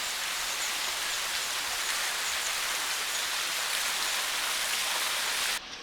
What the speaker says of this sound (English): isn't this nice? A nice little waterfall.